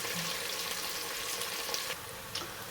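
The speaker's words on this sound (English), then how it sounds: "add salt to taste, and then let that fry until just soft" Chopped onion with salt frying in a pan for chicken akhni, a soft continuous sizzle at low volume with a slight shift in texture partway through and no talking.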